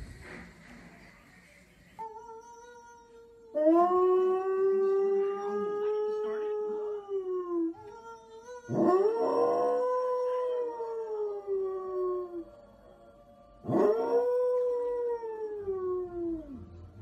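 A dog howls while watching television, several long drawn-out wavering howls with short pauses between them, close and loud, over faint background sound.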